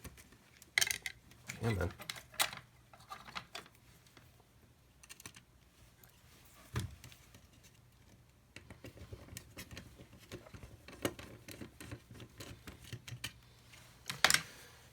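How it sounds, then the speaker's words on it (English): Small Phillips screwdriver backing two screws out of an N64 game cartridge shell, a string of faint close-up ticks, scrapes and clicks spread over several seconds, with a brief remark spoken partway through. "Let's remove these 2 screws here using a small Phillips screwdriver."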